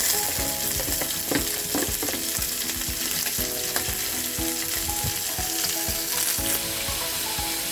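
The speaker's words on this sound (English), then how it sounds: "I'm also going to add my red and yellow capsicum." Red and yellow capsicum go into a sizzling beef stir fry with green capsicum, a loud continuous frying hiss close by, punctuated by scraping stirs and pan knocks, no talk.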